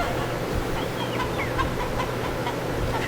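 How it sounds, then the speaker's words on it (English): Several farm chickens cluck and squawk in the background over a steady low hum, a busy flock heard from a short distance. "they laugh when the chickens go crazy"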